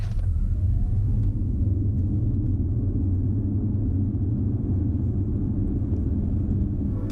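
Audi e-tron electric car sprinting from 30 to 70 mph, a steady low rumble of road and wind noise filling the cabin with no engine note, continuous and fairly loud throughout.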